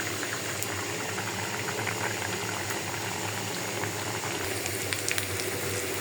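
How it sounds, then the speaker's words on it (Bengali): Fish curry of singhi fish with sponge gourd and Malabar spinach tips simmering in a pot, a steady bubbling and sizzling that runs continuously at close range with no talk over it. "ধুন্দুল দিয়ে শিং মাছ দিয়ে ঝোল রান্না করতেছি"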